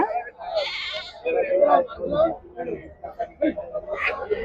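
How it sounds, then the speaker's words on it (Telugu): Large goats bleating at the Chillakallu livestock market, several calls scattered over a few seconds at close range, with people talking in the clip between and over the bleats. "పెద్ద సైజు మేకలు ఉన్నాయండి"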